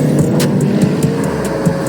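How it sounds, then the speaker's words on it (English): A brand new Porsche Panamera Turbo S with 620 horsepower, its engine humming in a steady, loud drone with faint rhythmic ticking over it, no voices. "he dropped 6 figures on his dream car. A brand new Porsche Panamera Turbo S."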